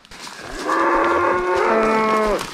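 Cattle and bulls mooing near a lake, with several loud, drawn-out calls overlapping close by over about two seconds and no talking.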